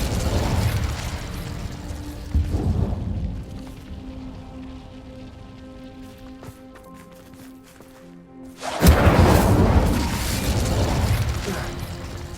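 Incendio fire spell cast in Hogwarts Legacy, a loud rushing, crackling fiery burst at the start, a quieter mechanical, ticking stretch, then a second powerful flaring blast that roars on to the end.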